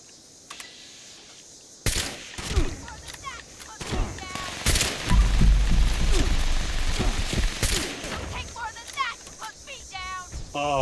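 Hunting rifle gunshots in Fallout 76, a run of sharp cracks spread over several seconds against a busy game soundscape, with a voice talking between the shots.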